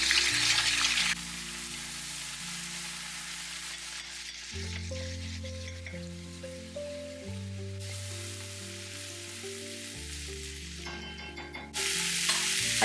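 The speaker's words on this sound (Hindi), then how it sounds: "अच्छे से मसालों के साथ मिक्स कर दिया है" Potatoes and beans sizzle in a pan as they are mixed with salt, turmeric, Kashmiri chili powder and crushed spices; a bright frying hiss opens and closes the stretch, while steady music dominates the middle.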